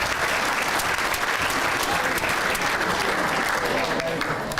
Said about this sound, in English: Can we get another round of applause for Troy Ryan?